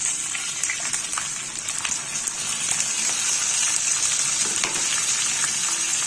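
Ground masala paste frying in hot oil with curry leaves, a steady close crackling sizzle that stays dense and even throughout, with brief spitting pops.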